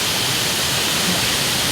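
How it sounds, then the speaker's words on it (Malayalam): A good-sized waterfall pours steadily, its broad, even roar of falling water filling the scene close by and alone, with no voices. "നല്ല വെള്ളച്ചാട്ടം"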